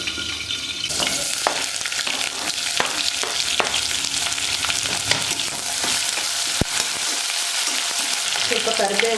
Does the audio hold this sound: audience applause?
no